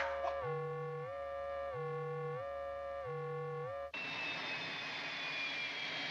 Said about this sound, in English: Nice liftoff, Commander.